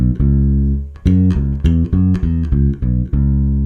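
Bass guitar plays the second half of a beginner bass line, a run of eight clearly plucked low notes in a steady rhythm, each ringing briefly before the next, alone and close.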